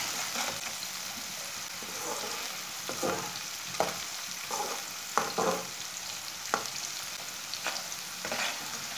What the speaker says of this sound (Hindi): बारीक कटा हुआ सब्ज लहसुन डाल लेंगे। 2 मिनट तक इसे भून लेना।